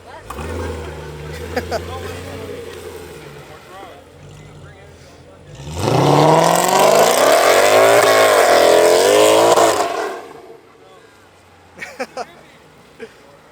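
A Chevrolet Corvette C7 Z06 on brand-new tires revs hard with one tire spinning for lack of a limited-slip differential, a loud sustained roar rising over several seconds and then cutting off, with quieter idle and people talking before and after.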